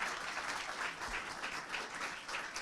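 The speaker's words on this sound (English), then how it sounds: "let's give a round of applause." An audience applauds in a dense, steady wash of clapping that holds at an even level throughout, with no one speaking over it.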